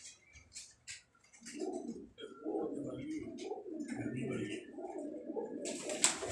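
Pigeons coo in a loft at a pigeon club, with soft, low, repeated coos close by while someone talks over them.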